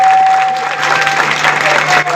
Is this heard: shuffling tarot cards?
no